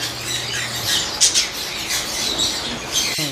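A pet bird of the green series mutation lets out short, sharp squawks and chirps over room noise, a couple of louder bursts standing out close by with no talking.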